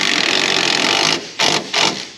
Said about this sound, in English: let's just go ahead and bolt down those nuts for the struts